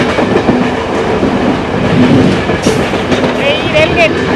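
The Jaffna to Colombo Intercity Express rushes at high speed past a station without stopping, a loud, steady roar of wheels and rails heard from on board, with faint squeals rising briefly near the end.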